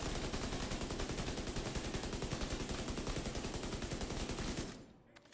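MK16 rifle in The Division 2 firing a long, rapid, steady automatic burst that empties a magazine, loud and continuous, then cutting off abruptly into near silence.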